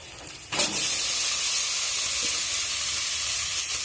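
Mashed pumpkin hitting hot oil with fried onion and garlic, a sudden loud sizzle that bursts in and then holds as a steady, even hiss.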